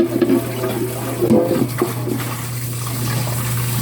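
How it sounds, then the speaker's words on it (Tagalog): Tap water runs steadily from a faucet while a cooking pot used for spaghetti is washed at a home sink, a loud continuous close-up rush with a low hum and a few clatters and splashes, no talking. "Hugas ta sa kalderin guys kay muna siya glutuan sa spaghetti."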